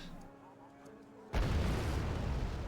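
A T-72 tank destroyed in the video game Wargame: Red Dragon, one sudden loud explosion bursting in after quiet battlefield ambience and rumbling on to the end, with no talk.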